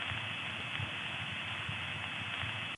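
Telephone trunk carrier noise with the higher frequencies missing, a steady band-limited hiss and hum that stays constant and muffled for nearly three seconds.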